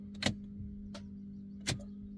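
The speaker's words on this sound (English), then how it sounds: "hopefully you can hear the click when I turn the key" Ignition key of a VW Touareg turned with the foot on the brake on a car that won't start, giving two or three short, sharp clicks over a steady low electrical hum, close and alone with no talk.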